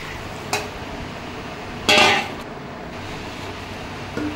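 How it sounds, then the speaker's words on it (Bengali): Water poured into a pan of spiced stingray and potato curry: a small click, then a short, loud hissing splash lasting about half a second, followed by a quiet low background. "এবার আমি জল দিলাম,"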